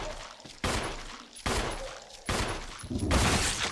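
Gunfire from the Resident Evil Remake game, four loud sharp shots spaced about a second apart, each with a ringing decay, heard alone without talk.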